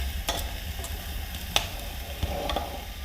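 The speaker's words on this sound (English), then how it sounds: "chuck it just very quickly in and out of the fire just to get a good sear on it" Meat searing in a pot over a campfire for a stout stew: a continuous sizzle with a few sharp clinks and stirring scrapes, close by, no talking.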